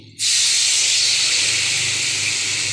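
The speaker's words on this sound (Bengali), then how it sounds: "আলুগুলো দিয়েও কষাবো জলটা দিয়ে দিই" Water added to a hot pan of fish roe and potato curry gives a sudden loud steam hiss that starts sharply and holds steady and close for the rest of the moment.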